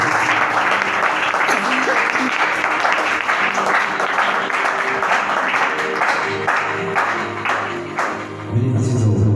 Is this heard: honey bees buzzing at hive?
no